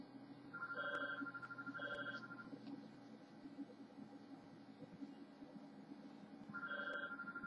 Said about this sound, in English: That's my phone going off, my home phone.